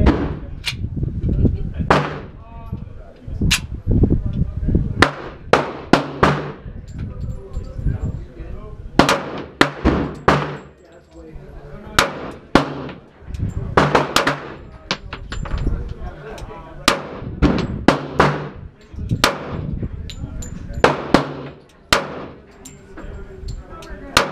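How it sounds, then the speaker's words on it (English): Handgun shots fired at an outdoor shooting range, many loud sharp reports spaced irregularly, some in quick pairs, with people talking between shots. "First round through this gun."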